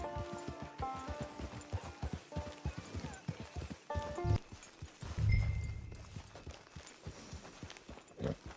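Horse hooves clip-clop at a steady walking rhythm in Red Dead Redemption 2, close and moderately loud, over a game music bed with a brief louder rumble midway.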